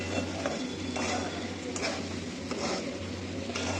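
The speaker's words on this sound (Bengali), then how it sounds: "এবার এটা ভালো করে মিশিয়ে নেব।" Roasted semolina being stirred into a mixture in a pan for a vegetarian breakfast, with soft scraping and clinking of a spoon against metal in a few bursts over a steady low hum.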